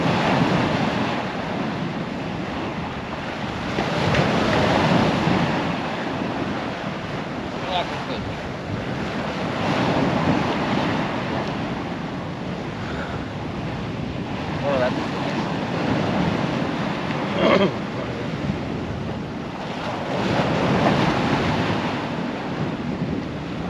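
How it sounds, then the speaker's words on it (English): Sea waves crash against the cliffs on a Holderness coast beach near Tunstall, a continuous surging roar that swells in slow rhythmic peaks, mixed with gusting wind buffeting the microphone. "Crashing in a bit on the cliffs to the right of me, you can hear it pounding on the cliff."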